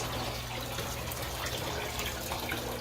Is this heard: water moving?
yes